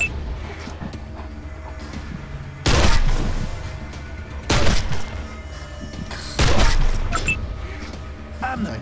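Gunfire in the post-apocalyptic role-playing game Wasteland 2 Director's Cut: three heavy, booming shot bursts spaced a couple of seconds apart, loud against a steady game-ambience bed.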